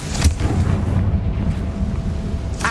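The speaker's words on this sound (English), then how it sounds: "Confringo. I'm gonna burn the webs away." Burning spider webs crackle and roar under the Confringo fire spell in Hogwarts Legacy, a low rumbling burst with sharp cracks at the start and end, heard alone without speech.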